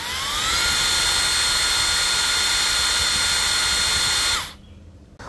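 DCK KDPL208 cordless brushless impact driver running free with no load, its motor whining loudly and rising in pitch as the variable-speed trigger is squeezed, holding a steady high whir before spinning down abruptly near the end.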